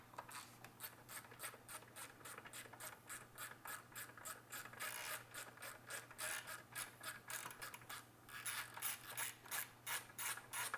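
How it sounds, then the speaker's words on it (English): A ratchet wrench loosening a bolt during a build, rapid regular clicking in quick bursts, close and steady, speeding up toward the end with no talk over it. "Take this bolt out, Chase."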